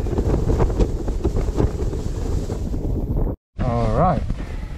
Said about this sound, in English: now the wind is getting calmer